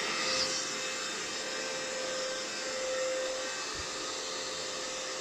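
A Lidl Parkside cordless vacuum cleaner runs with its hose reversed, giving a steady, fairly quiet whirring whine that holds an even pitch throughout with no talk.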